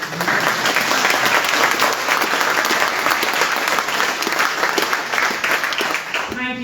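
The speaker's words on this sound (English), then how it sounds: "Give it a clap for" Sustained applause from a sizeable audience at a Kildare South election candidates' meeting, steady and loud throughout, with a crowd murmuring underneath.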